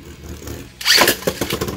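A World Spriggan Beyblade is launched and spins right in a plastic stadium arena, a sudden loud whirring rush that continues with rattling bursts as it grinds around.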